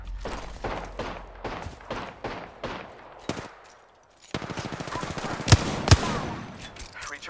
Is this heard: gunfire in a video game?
yes